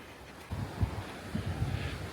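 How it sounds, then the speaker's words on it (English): Strong wind buffets the microphone outdoors beside St Mary's Church in Moulton St Mary, a steady low rumble swelling into heavier gusts partway through, with no voices. "even though it's very windy"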